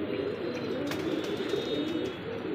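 Pigeons coo softly in a steady, low, throaty murmur, with a few brief brighter chirps partway through, close by and alone with no voices.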